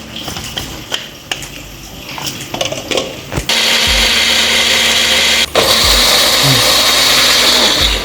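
An electric kitchen blender purees a Thai herb paste with vinegar for braised pork leg, starting with clattering handling noises and then a loud, steady motor whir that drops briefly and restarts near the end.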